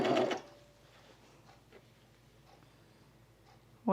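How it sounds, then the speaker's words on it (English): An overlocker sewing machine stitches lace onto leggings, a quick whirring burst at the start, then quiet light mechanical ticks, and another burst of stitching at the end. "I'm overlocking them on"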